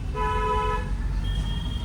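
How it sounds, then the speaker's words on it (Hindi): A car's horn sounds in one long sustained honk on a rough village road, loud and close, then fades into steady engine and road rumble. "यहाँ पे लॉन्ग हॉर्न प्रेस करो और राइट से निकाल लो"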